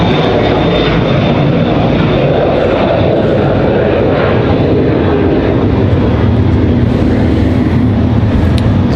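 A Boeing 737-700 airliner arriving at Raleigh-Durham airport roars loud and steady, with engine noise holding strong throughout and no talk over it.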